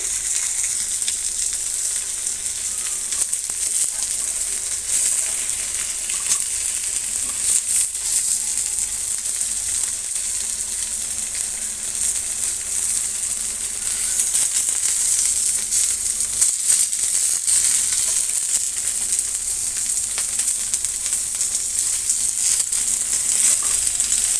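Rohu fish coated in masala fries in a pan, making a steady, even hiss that stays at the same level for a long stretch with no voices.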